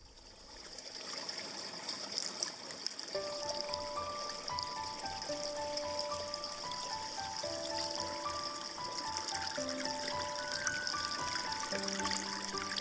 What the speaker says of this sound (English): It's time to switch on the waterfall.